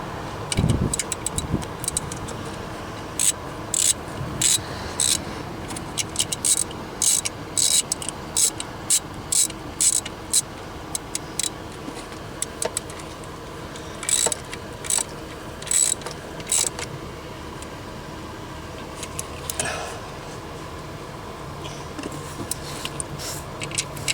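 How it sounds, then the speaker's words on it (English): A hand ratchet clicks in repeated bursts of sharp, rapid pawl ticks as a stud is tightened on a 2021 Chevy Camaro during an alternator replacement, close and clear over quiet shop background. "Now we're going to tighten up that stud."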